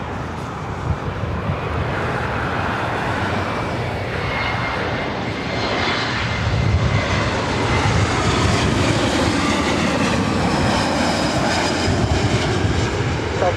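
Delta Connection SkyWest airliner departing LAX, a steady loud jet engine roar that builds and swells over the whole stretch, with faint radio chatter beneath.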